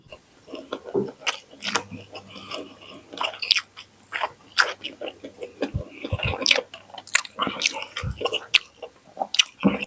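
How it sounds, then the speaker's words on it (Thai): Crunchy raw carrot bitten and chewed close to the mic, steady wet crunching and munching with brief murmured talk in between, eaten alongside rice with shrimp-paste chili dip, dried fish and salted egg. "แครอทแครอทกับกรอบๆเลยครับ"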